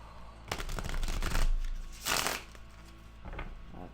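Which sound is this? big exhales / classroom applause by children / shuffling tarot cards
shuffling tarot cards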